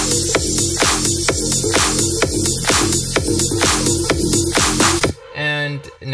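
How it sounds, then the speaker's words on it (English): A filtered eight-bar drum intro for a build-up, played without its undertone layer: steady, evenly spaced kick and hat hits loop loudly, then the pattern cuts off near the end into a brief sweeping tail. "we just have the boring 8-bar drum intro filtered thing"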